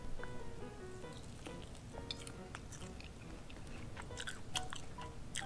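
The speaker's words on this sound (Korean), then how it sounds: "일단 이 치킨을 한번 먹어보겠습니다" Someone chews smoky, dakgangjeong-style chicken that is not very crispy, close to the microphone, soft moist bites and light crunches repeating irregularly against quiet background noise.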